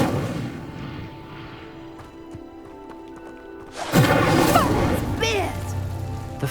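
A fire spell ignites a pyre in Hogwarts Legacy, a sudden loud whooshing burst of flame with crackling roar that follows a quieter stretch of ambient game sound and music.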